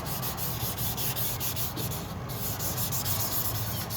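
A sander with a worn pad rubs over a car headlight lens in a steady, close, raspy scrubbing with a faint rhythmic pulse, continuous and alone without talk.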